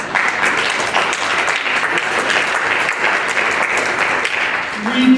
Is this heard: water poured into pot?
no